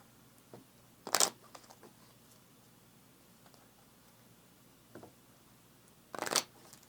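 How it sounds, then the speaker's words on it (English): A deck of cards is shuffled during a solo board game, two short crisp riffling bursts several seconds apart, close and clear in a quiet room with faint handling rustles between them and no talking. "And we will shuffle."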